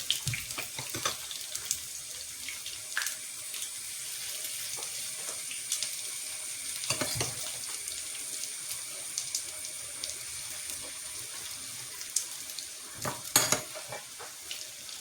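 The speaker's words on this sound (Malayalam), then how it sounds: "അപ്പോൾ നല്ല മഴയാട്ടോ പുറത്ത്." Heavy rain pours outside as a steady, dense hiss, with scattered sharp taps and clicks rising above it. No voices.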